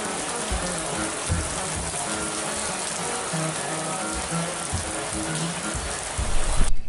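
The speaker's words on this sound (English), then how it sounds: "Isaac, how come you don't come play in the rain?" Steady heavy rain pours down on the TP Ranch, a dense unbroken hiss with a few soft thumps underneath, close and loud throughout, rising slightly at the very end.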